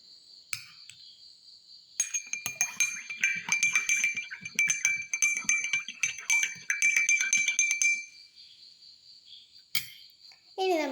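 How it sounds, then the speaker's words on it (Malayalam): Salt is added to a glass of water, with a rapid run of ringing clinks and taps against the glass for several seconds, followed by quiet and one final clink. "ഇതിൽ ഒരു ഗ്ലാസ്സിലേക്ക് നമുക്ക് ഉപ്പിട്ട് കൊടുക്കാം"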